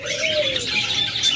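Caged pet lovebirds chirp continuously in a busy high twitter, fairly close and steady, with no voices.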